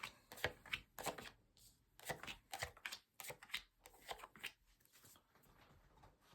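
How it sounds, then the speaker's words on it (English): Tarot cards shuffled by hand in a run of quick, crisp riffling bursts separated by short pauses, close and fairly soft, with no talking. "So I'm going to shuffle your cards now."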